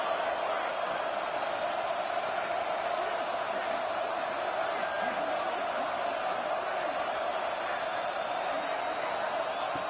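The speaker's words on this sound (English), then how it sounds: "Listen to the crowd energy here in the early going." A dense stadium crowd at a college football game, Oregon against Georgia State, makes a steady, loud roar that holds without a break, with faint cheers and whoops rising inside the wash of noise.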